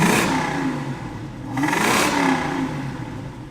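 A 1968 Ford Mustang GT V8 engine revs up twice, rising to a loud roar and falling back each time, heard close by with no talking.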